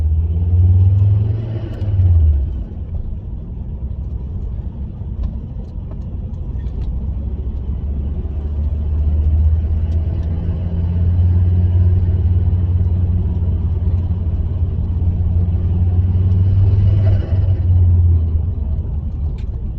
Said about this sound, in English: can you hear the 5050 Turbo Smart? Definitely worth an upgrade.